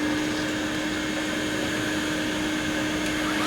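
A vacuum cleaner sucks up dust ground from a boat hull, giving a loud, even roar with a steady whine that holds without a break.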